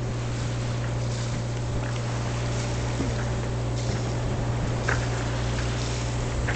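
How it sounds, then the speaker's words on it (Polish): The sailing yacht S/Y Starlight motors slowly at sea on its small engine in light wind. A steady low drone runs unbroken throughout, with faint wash and wind noise above it. "No i płyniemy sobie trochę na silniczku, bo słabo wieje."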